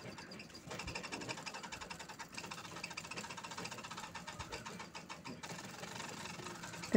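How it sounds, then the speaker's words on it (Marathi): A sewing machine runs steadily, quilting crosswise and lengthwise stitch lines into a saree border fabric, its rapid mechanical rattle continuous and close throughout with no pauses or talking. "तर याला अशा उभ्या आडव्या आपण शिलाई घेणार आहोत त्यावर"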